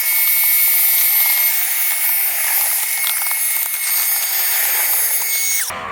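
Small wet and dry shop vacuum running loudly and steadily up close, a high whining motor roar with airy suction hiss that holds level, then cuts off abruptly near the end.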